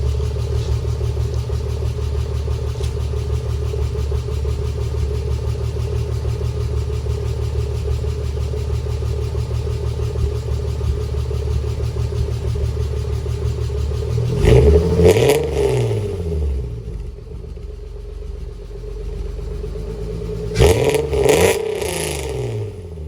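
An Acura Legend Coupe that sat unused for three years runs at a steady idle with a low, even drone. Two short blips of the throttle push the engine up and let it fall back.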